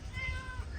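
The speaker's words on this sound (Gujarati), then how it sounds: "બિલાડી જુઓ" A domestic cat gives a single short meow close by, clear and fairly quiet over a low background rumble.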